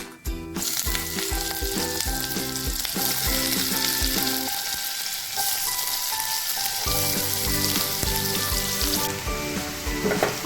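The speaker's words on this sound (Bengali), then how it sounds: "আরও গোল্ডেন ব্রাউন করে আমাকে পুরোপুরি ভাজতে হবে।" Chopped onions fry in hot oil with whole garam masala and cracked cardamom, a steady, loud sizzle running throughout with background music underneath.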